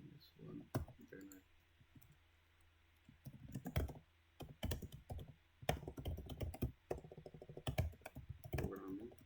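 Quick clicking keystrokes on a computer keyboard come in irregular bursts with pauses, fairly close and clear, while a person talks softly in between.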